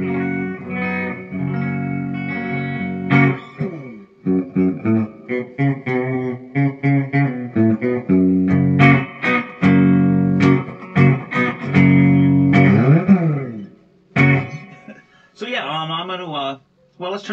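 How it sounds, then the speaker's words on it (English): Clean electric guitar through a 1990s Peavey Ultra 60 amp on the clean channel with EQ centered, playing chords and picked notes with a gentle reverb tail, strummed phrases separated by brief pauses, close and fairly loud. "we're going to start on the clean channel, and I've got the EQ all in the middle"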